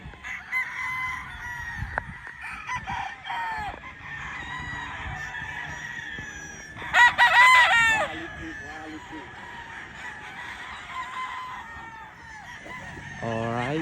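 Gamefowl roosters at a gamefarm crow repeatedly and cluck around a nearby listener, several overlapping crows with one loud close crow, while people talk over the farm background.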